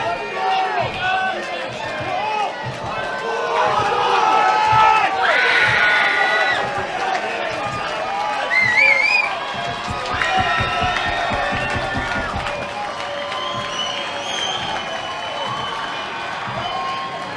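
A crowd cheers and shouts for a Scottish fighter's walkout at a boxing show, a loud, sustained roar with bursts of yelling and whistles, with voices talking over it throughout.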